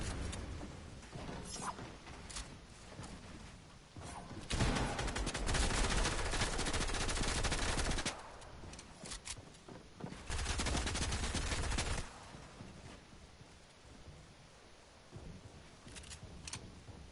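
Sniper gunfire crackles in bursts, with two loud sustained volleys of rapid shots standing out against quieter scattered pops and background noise, no voices.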